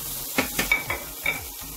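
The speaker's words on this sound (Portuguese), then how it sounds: "Vamos colocar a cebola" Chopped onion hits a well-heated pan for a vegetarian chickpea stroganoff. It gives a steady close sizzle, and several sharp clinks of a utensil stir and scrape against the pan.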